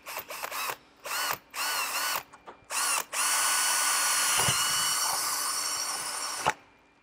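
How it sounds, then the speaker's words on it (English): A power drill drilling a pilot hole whines in several short bursts, then runs in one long continuous spin before stopping, close and fairly loud. "So we're going to drill a pilot hole."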